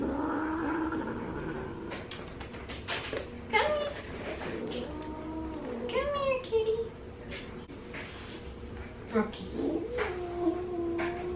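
A cat meows and caterwauls repeatedly in drawn-out, wavering cries, fairly close, with a person talking softly in between and over the calls.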